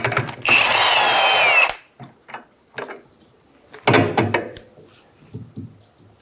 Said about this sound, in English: using a 19mm socket, remove the nut